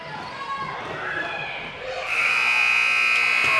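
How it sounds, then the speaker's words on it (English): A loud, steady electronic buzzer sounds at the end of a high school basketball game in a gym, starting about two seconds in and holding to the end over crowd noise. "At the buzzer beater, Ryan takes a shot off the mark."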